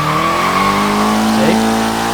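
A 2013 Dodge Dart with a 300 hp sleeper build at full throttle in Forza Horizon 3, engine droning loudly and climbing in pitch, with a quick shift dip near the middle.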